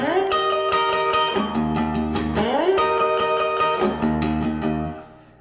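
A bluesy electric guitar lick in E, shuffle-style, with notes sliding upward, played twice in a shuffling rhythm, clear and close, fading out at the end.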